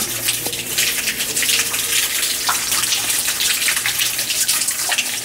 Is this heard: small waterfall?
yes